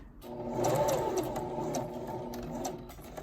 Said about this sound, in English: I'm going to back stitch a little every time I begin or end here